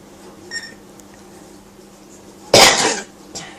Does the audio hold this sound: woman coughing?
yes